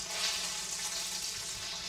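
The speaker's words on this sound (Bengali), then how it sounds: "মাছের এক পেট কিন্তু ভাজা হয়ে গেছে" Fish frying in a pan on a home cooking show, giving off a steady, close, even sizzling hiss with no break and no voices.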